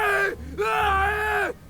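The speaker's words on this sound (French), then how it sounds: "J'ai jamais entendu les Flynn hurler comme ça" Agonised male cries from a Sherlock Holmes video game set in a prison, two long wailing screams rising and falling with a short break between, loud and close with no other talk.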